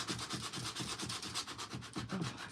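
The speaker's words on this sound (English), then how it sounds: "I'm just sanding the glitter off the bird's wings." Rapid back-and-forth rasp of sandpaper rubbed by hand over a glittered craft bird's wings, close and fairly soft, in a steady scrubbing rhythm.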